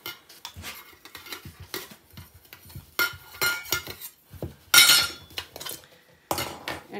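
A backpacking cook pot system being handled, with metallic clinks, taps and rattles of pot, lid and utensils in irregular close bursts, no talking.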